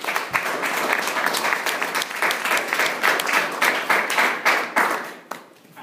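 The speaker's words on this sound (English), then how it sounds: "and we have a huge round of applause" Audience applause after a campus Q&A session with an MP, dense steady clapping from a room of people that holds for about five seconds and then tapers off abruptly near the end.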